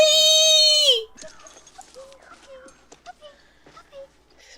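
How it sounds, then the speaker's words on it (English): A swamp dog whimpers in a series of short, high, faint whines and yips, following a loud sustained tonal cry that cuts off abruptly. "Random swamp dog."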